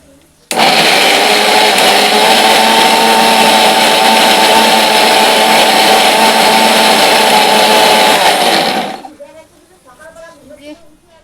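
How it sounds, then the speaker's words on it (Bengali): A kitchen mixer grinder whirs loudly as it turns ginger, onion, garlic and meat masala into paste; it starts abruptly and runs steadily for about eight seconds, then winds down, and a voice speaks afterward. "আমি মিক্সিতে একটু আদা পেঁয়াজ রসুন আর মিট মশলা পেস্ট করে নেব"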